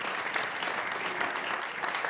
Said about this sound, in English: let's give one more round of applause for Monika